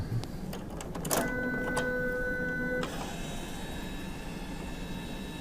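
A card printer whirs and hums with a steady mechanical drone, a brief higher-pitched tone rising in the middle before settling back to a constant hum.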